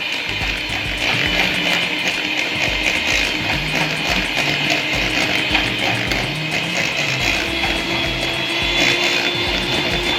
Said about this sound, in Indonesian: ini dikocok sampai creamy kurang lebih 5-7 menit